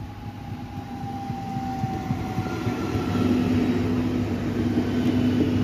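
A Regio S-Bahn Bremen train in Lower Saxony runs along its route: a steady low rumble with a faint whine, swelling gradually louder over several seconds, with no talk.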